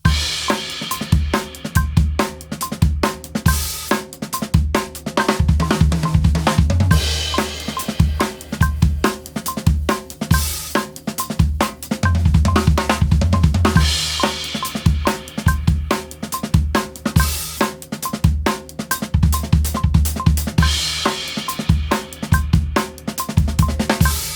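A fast, steady linear drumming groove on a drum kit played alone, with busy, evenly flowing hits spread across drums and cymbals and no pauses.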